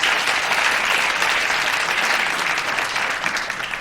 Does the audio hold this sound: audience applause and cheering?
yes